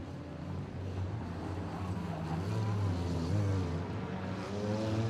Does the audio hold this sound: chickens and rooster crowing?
no